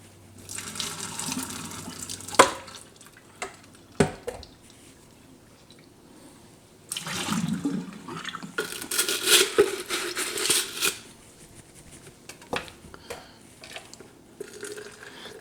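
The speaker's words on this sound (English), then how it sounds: "Maybe even rinse this off with some boiling water." Water runs from a kitchen tap and splashes while a water bottle is rinsed out, in intermittent bursts of flow with drips and plastic handling noises between them, close and moderately loud.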